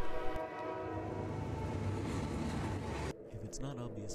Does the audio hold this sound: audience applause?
no